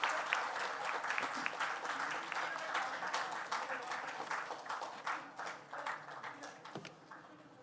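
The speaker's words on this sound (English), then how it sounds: "a big round of applause please for Team BDG" Applause from an audience at an institute's jubilee celebration and awards ceremony, a sustained dense patter of many hands clapping in a hall, steady at first and then gradually thinning and fading toward the end.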